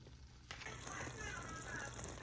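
Stir-fry vegetables and diced chicken breast sizzle in a pan with sesame oil, a steady close frying hiss that swells after a brief quieter start and runs on without pause.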